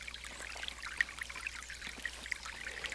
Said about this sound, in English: It's just bubbling, not a powerful stream, but just a gentle, slow stream.